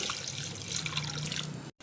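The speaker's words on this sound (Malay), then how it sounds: "Tambah air, kita rebus yang ini dulu." Water pours steadily into a cooking pot to boil sago pearls, a continuous close splashing rush that cuts off briefly near the end, with no talking.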